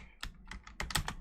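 Quick, close clatter of keys on a computer keyboard, several sharp taps in an uneven rhythm over a second or so, with no speech.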